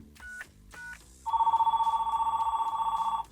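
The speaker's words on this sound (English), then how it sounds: "we have a dial tone here too" A home-built telephone network gives two short tone bursts, then a steady, continuous dial tone that holds to the end, close and clear with no talk over it.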